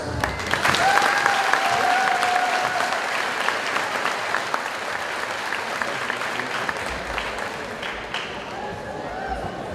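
A homecoming-night crowd at a high school football game applauds the seniors, sustained clapping and cheering with some whistles, thinning out toward the end, with voices mixed in.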